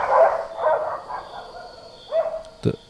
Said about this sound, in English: Because it is dogs howling.